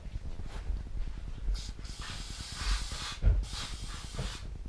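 Bursts of insect spray hiss from an aerosol can aimed at bugs in a corner, several short sprays over rapid mechanical ticking, with handling noise and a thump.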